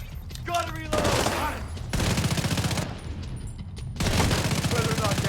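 Bursts of automatic gunfire in The Division 2 video game, sustained loud volleys broken by brief pauses, with game voice lines and music mixed in.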